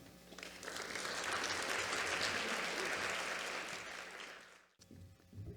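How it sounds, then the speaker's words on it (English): Round of applause at a luncheon honoring short film grantees, many hands clapping in a steady wash that swells, holds, then tapers off before a brief pause and a speaker's voice. "let's give a round of applause and warm welcome to Frampton."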